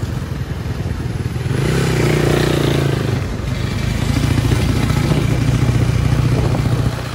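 A CG 150 motorcycle engine runs while riding, a close, loud, steady mid-pitched drone with rattling and wind noise that swells slightly as it revs.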